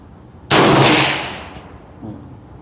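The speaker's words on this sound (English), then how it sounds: "I'm going to take my second shot with Fiocchi" A single loud, close rifle shot from a 300 Blackout loaded with Fiocchi ammunition, a sharp blast followed by a long fading outdoor echo and a faint metallic ring afterward.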